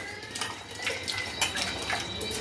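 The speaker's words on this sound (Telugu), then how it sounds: "ఒకసారి చింతపండును కడగాలి" Tamarind washed in water for a ginger pickle recipe gives a steady, close wash of splashing, trickling water lasting throughout, with no voices.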